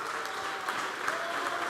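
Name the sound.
applause in church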